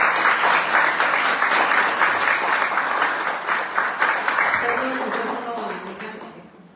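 Audience applause at a book presentation, a dense round of clapping that holds strong then gradually thins and fades, with voices rising beneath it near the end.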